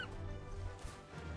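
A large mount bird in the video game Final Fantasy XVI lets out a low, throaty honking call that repeats in soft pulses over steady game ambience, with no speech.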